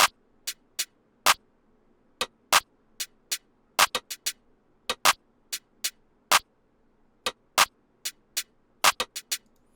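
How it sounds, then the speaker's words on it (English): A sparse percussion pattern of sharp, dry hits, snare and clap sounds spaced unevenly over silence, crisp and close. "this little perk pattern right here, which again, I'll play with the snare and the clap"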